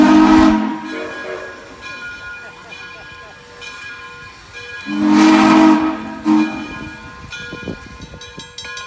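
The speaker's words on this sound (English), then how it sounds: "And also blowing its whistle, going back into its storage spot." Frisco 1630, a steam locomotive backing past railroad crossing gates toward its storage spot, sounds its whistle in two long, loud blasts amid hissing steam and rail noise.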